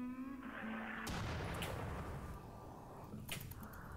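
Raiders in the game RimWorld fire a burst of gunshots: a sharp crack followed by noisy, decaying reports and a second shot near the end, fairly quiet overall with no talk.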